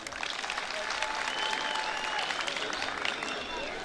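Audience applause fills the room as a steady, fairly quiet wash of many hands clapping, with no pauses.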